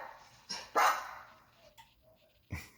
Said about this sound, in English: Okay, there's a few dogs.